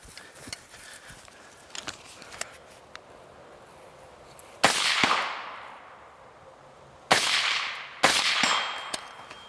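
Carbine shots ring out on an outdoor range while the shooter runs: a few faint distant pops early, then three loud sharp reports with long echoing tails spaced a few seconds apart.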